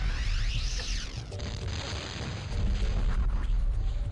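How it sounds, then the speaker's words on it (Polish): Explosions booming in the Rayman 2: Revolution PS2 game, a dense, continuous low rumble of blasts that stays loud throughout with a swept high whine at the start. "na razie to niestety mogły mnie te wybuchy zagłuszać"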